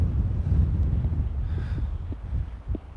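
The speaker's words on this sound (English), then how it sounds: "It is windy" Gusty wind buffets the microphone with low rumbling blasts, steady and close, without any talking.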